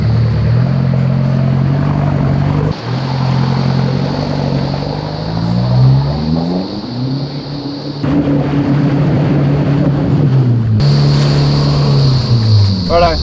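A 4WD stuck in mud during a recovery, its engine droning and revving loudly and close for a long stretch, pitch rising and falling as the driver tries to pull free.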